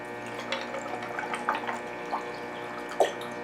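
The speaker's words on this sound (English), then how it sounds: "I'm just going to pour it into the cup" Cold vanilla coffee pours into a cup in a short, close trickle with small splashy bursts and a sharper splash near the end.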